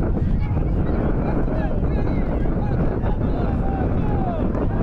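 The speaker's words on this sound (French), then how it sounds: "le vent se fait de plus en plus violent" Strong, cold wind gusting across an outdoor football pitch at Manduel during a youth tournament, a constant loud roar buffeting the microphone, under a commentator's voice.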